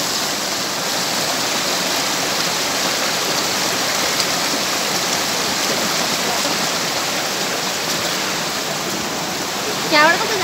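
Bungdel waterfall in Samari, Makawanpur, roars as a loud, steady wash of rushing water close by. A brief voice cuts in near the end.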